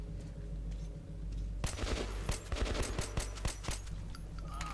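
A rapid burst of muffled suppressed gunshots in Metro 2033 Redux, several sharp cracks in quick succession over a low steady hum, then a few scattered shots trailing off.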